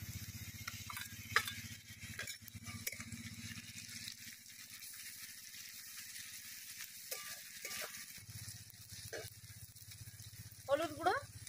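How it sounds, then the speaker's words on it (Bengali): Ginger garlic paste sizzles in a pan with browned onions, a low steady frying hiss broken by scrapes and rattles of stirring. "এবার দিয়ে দেবো আদা রসুন বাটা।"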